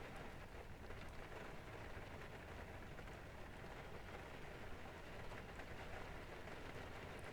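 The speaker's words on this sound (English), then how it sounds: "I'm liking the sound of the rain" Rain drums steadily on the outside of a jet airliner in the X-Plane 11 flight simulator, a dense, even patter blended with a low cabin rumble and no breaks.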